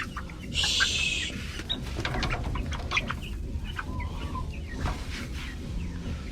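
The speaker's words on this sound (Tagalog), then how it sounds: "Bali, nandito yung mga manok na maliliit." Small chickens cluck and chirp in a farm pen, with a brief high-pitched squawk and scattered soft clucks over a rustling, shuffling background, fairly faint and without talk.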